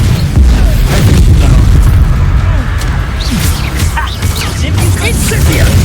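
Incendio spell blasts in the Hogwarts Legacy video game, heavy booming fire bursts over a dense, loud rumbling combat mix, with a voice speaking over the action.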